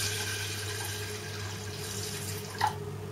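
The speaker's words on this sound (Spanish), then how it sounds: "Echaremos agua" Water poured from a tap into a pot holding rice, a soft continuous trickle with a low steady hum beneath and a brief louder splash near the end, fairly quiet and with no speech.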